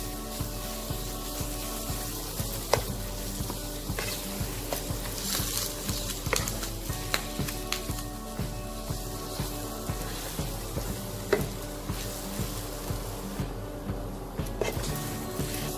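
Urad dal filling with salt being dry-roasted in a pan over a slow flame, a soft continuous sizzle with steady scraping and stirring taps of a spatula throughout.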